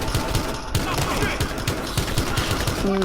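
Rapid automatic gunfire in the video game Battlefield Hardline, a fast rhythmic stream of close, loud shots running continuously for a few seconds amid game noise.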